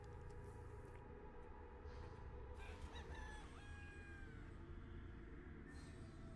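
Chickens in the video game Dungeon Defenders cluck, and a rooster-like crow rings out midway over a constant background din of game noise, fairly faint overall.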